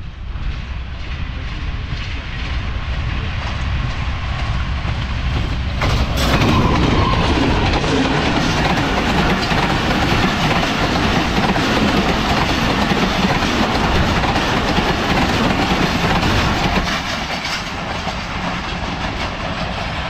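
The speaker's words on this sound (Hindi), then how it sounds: "39 अप जाफ़र एक्सप्रेस आ रही है ZCU-20 के साथ" The Jaffar Express, hauled by a ZCU-20 locomotive, arrives at Budho railway station in Pakistan. Loud, continuous rumble and clatter of wheels and cars swells sharply a few seconds in, then eases slightly near the end.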